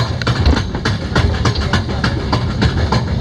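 A Marvel Cave funicular cable train climbs steadily, its rattling, rumbling cars giving off regular clicking and clanking knocks over a continuous low mechanical drone.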